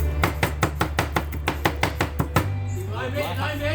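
Garlic is chopped with a knife on a cutting board, about a dozen sharp, evenly spaced close chops. Then the chopping stops and a low steady hum continues.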